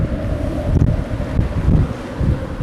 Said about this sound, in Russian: Ветер ревет прямо в проводах.